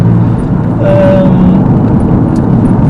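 A Porsche 996 engine accelerating gives a loud, continuous low drone that holds steady for the whole stretch, with no voices over it.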